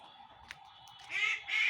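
Ducklings on a village farm near water give a brief cluster of calls, one short peep followed by two louder bursts of chirping close by, with no talking.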